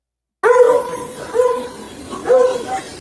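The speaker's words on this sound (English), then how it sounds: "There's a dog again." A dog barks in a few distinct bursts at moderate distance, with short tonal yips separated by pauses, loud against a quiet background.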